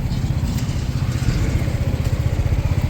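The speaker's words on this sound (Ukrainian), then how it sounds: "По мотору робота ідеальна, оберти рівні" A 2020 Yamaha Nmax 125 scooter engine idles close by with an even, steady low putter and light mechanical clatter, no talk over it.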